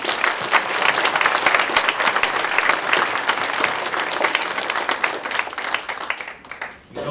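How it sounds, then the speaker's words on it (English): Sustained crowd applause for graduates at a high school learning center commencement ceremony, steady loud clapping for about seven seconds that thins and fades near the end. "Can we give them a round of applause?"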